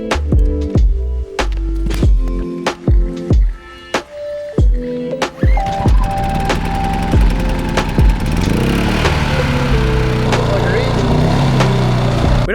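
A small engine, freshly topped up with fuel and stabilizer for a hotshot truck setup, catches and settles into a steady, loud running drone after a stretch of sharp knocks and clatter, with voices faintly underneath.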